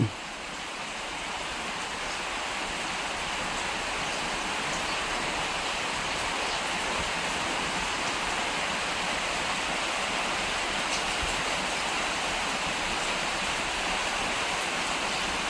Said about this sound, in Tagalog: Ulan pa man.